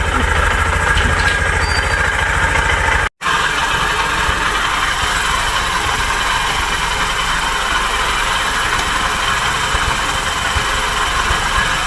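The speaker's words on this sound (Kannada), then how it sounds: "ನಮ್ಮ ಮನೆಯವ್ರು ಗಾಡಿ ಸ್ಟಾರ್ಟ್ ಮಾಡಿಟ್ಟು ಹೆಲ್ಮೆಟ್ ತರಕ್ಕೆ ಹೋಗ್ಯಾರ" A motorbike engine, already started, idles steadily and fairly loudly for the whole stretch, with one brief dropout near the start.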